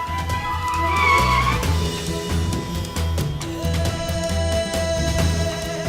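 A car skids to a stop with a sustained tire squeal rising over a low engine rumble, loud and close, fading into a steady idle with dramatic music-like tones underneath.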